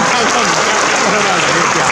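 An audience in a county council event crowd claps together loudly and continuously, a dense, even wash of applause heard up close for a couple of seconds.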